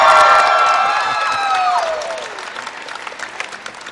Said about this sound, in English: please give out a cheer?